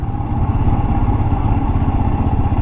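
A Royal Enfield motorcycle engine running nearby, a loud, steady throbbing rumble with a fast even pulse and light mechanical clatter, no voices.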